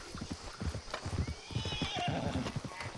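Horses in the Red Dead Redemption 2 video game whinny and neigh over steady hoof clip-clops, several animals close by, with a squealing whinny rising midway and continuing hoofbeats throughout.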